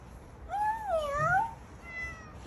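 A domestic cat that scratches its claws on a houseplant gives one clear, wavering meow lasting about a second, close and moderately loud over faint background noise, then a softer short follow-up.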